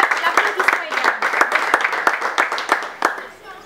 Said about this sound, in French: Nous l'applaudissons également.